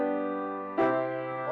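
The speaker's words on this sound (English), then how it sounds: "Authentic is 5 to 1." Two sustained chords, an authentic cadence from the five chord to the one chord, the second struck just before the midpoint and resolving, clear and close with no voices.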